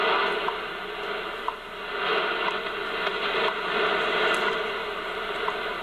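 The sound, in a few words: shortwave radio time signal at 5 megahertz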